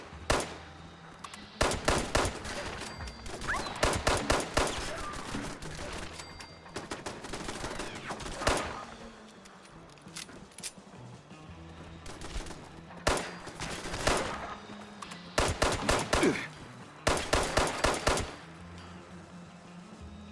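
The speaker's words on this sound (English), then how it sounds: "Me almost getting taken out by my own gun turret." Automatic gun turrets open fire in Fallout 76, loud rapid bursts of gunfire repeating in several volleys over a steady background rumble, with no talking.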